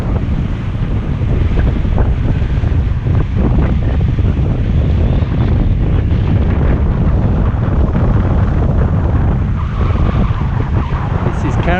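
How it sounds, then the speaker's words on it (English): Strong, gusty wind buffets the microphone aboard a Hallberg-Rassy 54 sailing yacht in the Caribbean off Barbuda, with waves rushing along the hull in a continuous roar. "It's very gusty as we're going down the back of the island"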